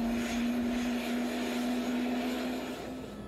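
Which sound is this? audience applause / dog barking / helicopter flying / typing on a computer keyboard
helicopter flying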